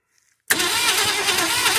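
An abandoned Ford Fairlane engine cranks on a first start attempt after decades of sitting, a sudden loud, steady churning that begins abruptly after a near-silent moment and runs on evenly without catching.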